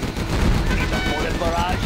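Gatling tank in C&C Generals Zero Hour unleashing a dense, continuous rattle of rapid gunfire, loud and close, with game voices speaking over the barrage.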